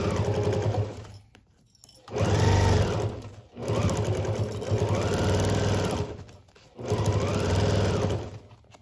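A sewing machine stitches a wide stitch through thick quilt layers for a tennis bag, running in loud, close, steady whirring bursts of a few seconds each, separated by short stops.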